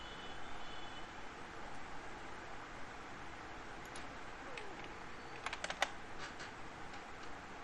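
Faint keystrokes on a computer keyboard, a short cluster of quick clicks midway including a firmer key press, over a low steady room hum.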